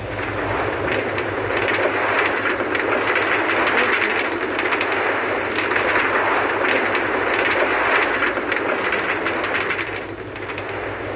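An express train in the video game Lokicraft rumbles along its rails with a loud, continuous rolling roar and a faint rhythmic clatter that carries steadily throughout, easing slightly near the end, no talking.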